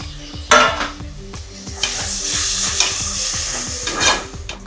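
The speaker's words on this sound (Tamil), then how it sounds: "ஒரு கைப்பிடி அளவு புதினா, கொத்தமல்லி அதையும் போட்டு நல்லா வணக்கிக்கலாம்." Mint and coriander sautéed with ginger-garlic paste in a pan for soy chunk biryani, a loud continuous sizzle with rapid rhythmic metal scraping and clinking of a ladle stirring.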